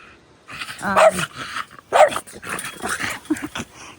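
In a summer garden, a dog lets out several loud barks and growly yaps at irregular intervals, close by and with nobody talking over them.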